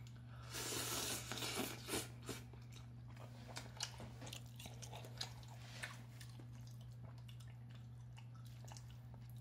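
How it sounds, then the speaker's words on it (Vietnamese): Slurping of pho broth with rare beef and noodles, a few close wet sips and mouth noises near the start, then softer chewing and faint clinks over a steady low electrical hum. "húp cái nước này cũng ngon nữa."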